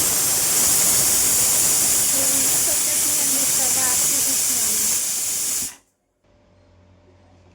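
A pressure cooker cooking dal lets off a loud, steady steam hiss that holds for several seconds before cutting off abruptly, with a brief whistle-like tone riding on it, followed by quiet kitchen ambience.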